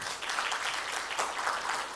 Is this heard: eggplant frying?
no